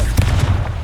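Confringo blasting spell cast in Hogwarts Legacy, a dense, loud burst of crackling impact noise filling the whole short moment without a pause.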